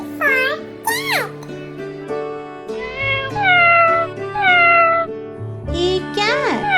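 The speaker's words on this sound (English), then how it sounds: "C for cat." Several high, drawn-out cat meows repeat close and loud, some rising and falling, over a sustained musical backing tone.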